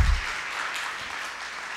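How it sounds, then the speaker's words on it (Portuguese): Audience applause at an autism lecture, a brief, even wash of clapping from a room full of people, steady and moderately loud after a short thump at the start. "eu peço mais uma vez uma salva de palmas para ele"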